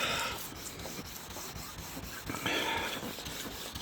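Fine-grit sandpaper rubs by hand in crosshatch strokes over the paint of a 1957 Chevrolet Bel Air, a close scratchy rasp in uneven back-and-forth bursts.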